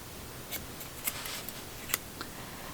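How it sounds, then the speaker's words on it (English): Scissors snip paper toward a corner while making fore-edge book art, giving a few faint, sparse cuts against soft room noise. "So I'm going to cut this towards the corner."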